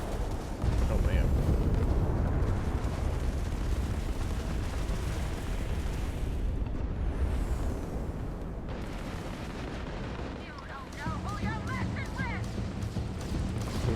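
Gunfire and explosions in the space game Starfield, a dense rumbling barrage of shots and blasts that eases midway before rapid firing returns, with talk mixed in.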